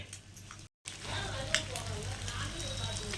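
Fish pieces roast in a pan, a steady, close sizzle and crackle that runs throughout after a brief dropout near the start, with small pops and scrapes over a low hum.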